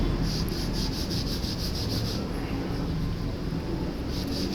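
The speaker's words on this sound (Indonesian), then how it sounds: "Setelah ini biasanya langsung saya gosok nih sebelum kita mulai ke lapisan kedua" Close, steady rubbing and scrubbing as a cloth is worked over vegtan leather dyed with spirit-based dye, a continuous dry swishing with slight rhythmic pulses and no talking.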